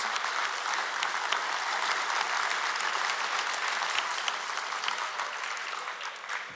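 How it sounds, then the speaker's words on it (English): Sustained, dense applause from a large audience honoring the high school champions at the National Science Bowl 2025 finals, steady and loud throughout before tapering slightly at the end. "All of that applause"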